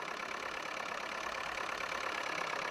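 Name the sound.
tractor engine in Farming Simulator 22 video game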